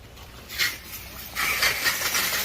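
Water rushes into a pond through a newly installed float valve, a steady hiss that swells louder partway through and continues close by with no talking.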